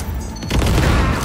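Shotgun fire in the video game Cyberpunk: a loud, close blast followed by a quick rattle of further booming shots and reverberation within little more than a second.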